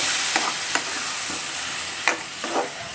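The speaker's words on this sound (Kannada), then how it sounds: "ಇವಾಗ ರುಬ್ಬಿಟ್ಕೊಂಡಿರುವಂತಹ ಟೊಮೊಟೊ ಪ್ಯೂರಿ ಹಾಕಿ ಚೆನ್ನಾಗಿ ಫ್ರೈ ಮಾಡ್ಕೋಬೇಕು" Ground tomato puree fries loudly in a pan with a constant close sizzle, broken by several sharp spatula clinks and stirring scrapes, no voices.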